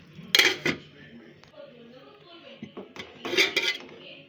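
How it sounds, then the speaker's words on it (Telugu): Metal lid set onto a pot of lobster curry in a home kitchen: a couple of sharp clanks at the start, quieter rattles, then another cluster of clinking pot-and-lid hits near the end. "ఒక 5 నిమిషాలు మూత పెడదాం"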